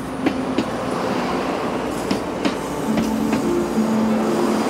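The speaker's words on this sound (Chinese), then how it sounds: "清晨时分，铁轨上的火车缓缓前进" A train moves slowly along the rails through the Pingxi mountain town in the early morning. A loud, steady rumble carries spaced wheel clicks and a faint high squeal, with no voices.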